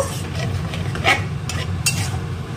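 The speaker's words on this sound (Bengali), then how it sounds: "দইয়ের সাথে এবার ভালো করে একটু আমি কষিয়ে নেব।" Spices and yogurt stirred in a pan as they fry, with a steady low sizzle under occasional scraping strokes and light clinks of a utensil against the pan; no one speaks.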